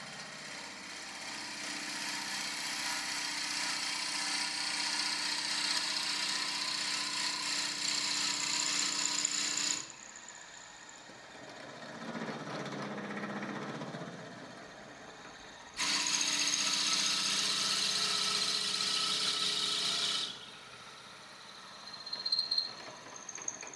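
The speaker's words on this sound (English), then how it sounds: "let's drill that hole." A power drill whines steadily in two long bursts while drilling a hole in wood for a twig pot, with quieter pauses between them, close up and fairly loud.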